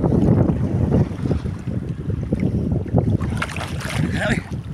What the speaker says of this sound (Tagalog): Sobrang lakas talaga ng alon